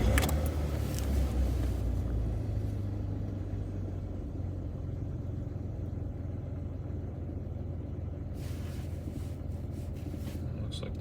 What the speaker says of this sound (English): Let's see what happens when we start the car